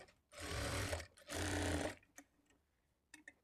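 A sewing machine stitches a lining blouse in two firm bursts of rapid whirring, each about half a second to a second long, followed by a few faint clicks in a quiet room.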